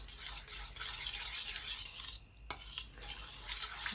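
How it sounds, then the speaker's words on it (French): A spoon stirs yeast into lukewarm water in a bowl, a steady soft scraping and swishing with a single brief clink partway through, close and quiet, with no voices. "on va mélanger pour dissoudre la levure dans l'eau"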